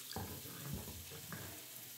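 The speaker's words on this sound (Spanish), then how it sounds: "Le vamos a poner agua para colarlo." Water runs from a tap and is poured in to strain ground chili and cumin, a quiet, steady splashing flow with a few soft knocks, heard alone.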